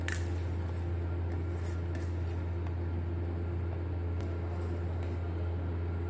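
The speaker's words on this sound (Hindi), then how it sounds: "चलिए अब मिक्स करते हैं चीजों को।" Hands mixing minced chicken with onion and spices in a bowl, giving soft, continuous squishing and faint clinks against a steady background hum, with no talking.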